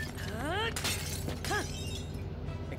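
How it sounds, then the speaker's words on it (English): Clay pots smashing in an animated Link versus Cloud battle, sharp shattering crashes in quick succession under excited voices, with rising musical tones between the breaks. "Pots! Smash the pots!"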